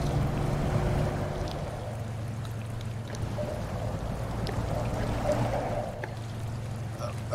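A lifted Chevrolet 1500 with a snorkel, in four-wheel drive in the Snowrunner game, ploughing through mud and a river. A low engine drone runs under continuous rushing, churning water throughout.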